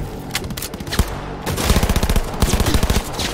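Automatic gunfire in the Cyberpunk 2077 video game: fast, rattling bursts of shots that grow denser and louder in the second half, with no talk.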